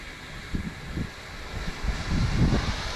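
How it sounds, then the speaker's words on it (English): Strong outdoor wind buffets the microphone in low, uneven gusts of rumbling noise, swelling and fading over a steady background hiss. "It's super windy today."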